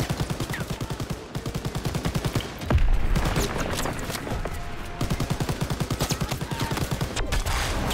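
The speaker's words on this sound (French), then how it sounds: "Bon, je tire, moi." Rapid machine-gun fire in the Call of Duty WW2 video game, long steady bursts of automatic shots near and loud, briefly broken by a heavier blast midway before the rattling resumes.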